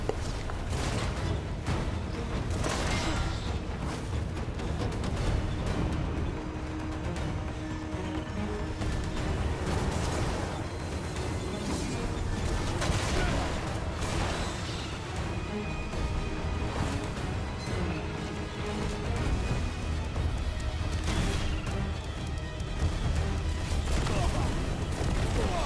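Crimson Desert boss battle in which gunfire is blocked with a shield, heard as continuous dense bursts of shots and crashing impacts over game music, with a voice talking throughout.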